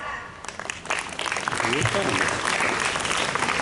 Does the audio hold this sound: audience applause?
yes